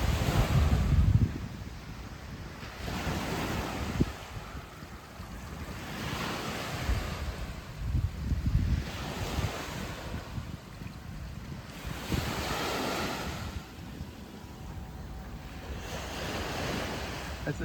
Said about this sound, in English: this is a beautiful beach though